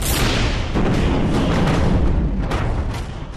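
A blast near an airfield outside Kyiv during wartime missile attacks, heard as a loud sustained rumbling roar that fills the whole span and slowly fades toward the end, with no voices.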